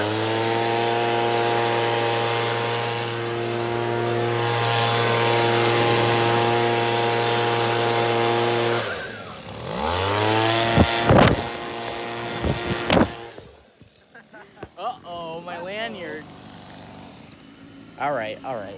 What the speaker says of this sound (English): y'all can tell we're having some fun with some good old leaf blowers